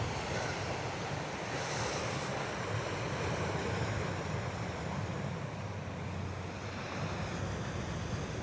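Ocean waves wash continuously at Kama'ole 1 Beach on Maui, a steady broad roar of surf mixed with strong wind buffeting the microphone, with no talk.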